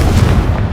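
Fire-spell explosion cast in the video game Hogwarts Legacy: a single short, loud, booming burst with a dense low rumble, heard close and on its own.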